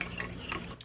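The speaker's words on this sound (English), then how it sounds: "We're gonna give it a stir" Cocktail sauce being stirred in a bowl at close range, a brief soft scraping and swishing with light clinks over a steady low background hum.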